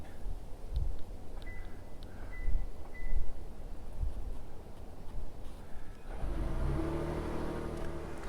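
A Toyota Tundra Capstone CrewMax pickup cranks and its engine catches and revs up on a cold day, following a few faint clicks inside the cab, then settling into a loud steady idle with no talk.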